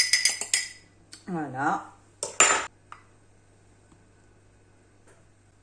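Egg yolk and a little milk are whisked in a bowl with a utensil, giving a quick burst of clinks and scraping against the bowl, followed by a brief spoken word and then quiet.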